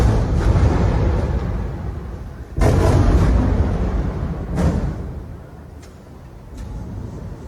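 Bombs falling and exploding during the Israel-Palestine conflict, a few muffled booms with rumbling tails over a constant low background, one heavy blast standing out midway, heard from indoors.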